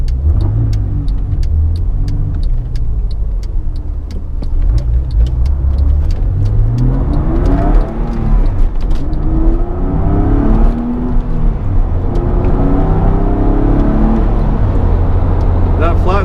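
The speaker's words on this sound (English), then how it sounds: "That flat 6 is just a wonderful sounding engine." A 2005 Porsche 911 Carrera S (997) flat-six, about 350 horsepower, revving and pulling through gears on the road, close and loud, with rising and falling engine pitch and steady road noise.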